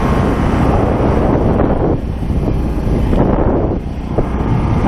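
Strong, cold wind buffets a boat on open water during a night of bowfishing near an island, a loud continuous roar with microphone rumble that swells and dips slightly, with no voices.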